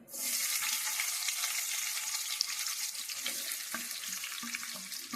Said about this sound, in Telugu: ఆయిల్ గీ అయితే హీట్ అయిపోయింది ఇప్పుడు మసాలా సామాన్ వేస్తున్నాం మసాలాలు ఎగిపోయాయి ఇప్పుడు ఆనియన్స్ వేసేసుకుంటున్నాను